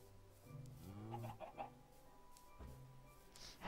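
Chickens in the Minecraft video game clucking in short bursts, fairly quiet, with a few separate calls spread across a few seconds over low background sound.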